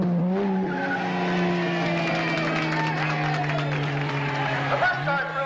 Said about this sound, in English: The first car through is the Thunderbird, driven by Duke Benson.